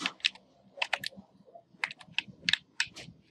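A computer keyboard is tapped while controlling the PES 2016 football game: close, crisp key clicks come in short irregular bursts separated by brief pauses, with no talk.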